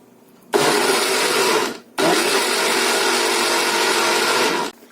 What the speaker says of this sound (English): Use a blender at the medium speed so that the juice tasted better.